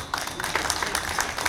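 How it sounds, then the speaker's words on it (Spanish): Applause for a reader at a church gathering: a brief patter of clapping from a small group, steady and moderately close throughout. "Un aplauso para él."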